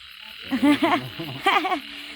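Frogs croak in two short bursts of throaty, rhythmic calls, loud and close, separated by a brief pause against a quiet night background.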